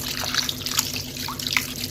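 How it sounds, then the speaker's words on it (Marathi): Raw chicken is rinsed in water, with running water, splashing and dripping close by, punctuated by brief sharper splashes as the pieces are handled. "एक किलो चिकन घेतलेलं आहे छान धुवून घ्यायचं दोन तीन पाण्याने स्वच्छ"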